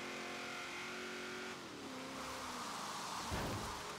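Race car engine in the video game Forza Horizon 3, driven on a wet, rainy track: a steady loud engine drone with a pitch shift partway through, then a brief scrape or skid near the end.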